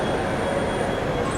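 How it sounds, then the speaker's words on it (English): A train sits in Rome's main rail terminal, giving off a steady broad rumble with a faint high wheel squeal in a large reverberant station hall, and no one talks. "I believe that this is the main train terminal in Rome."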